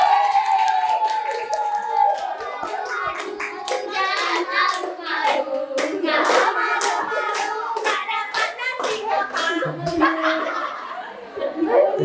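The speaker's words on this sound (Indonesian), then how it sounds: "Tepuk tangan dulu temannya." Schoolchildren clap their hands for a classmate in a classroom, a burst of uneven, close clapping mixed with children's chatter and laughter throughout.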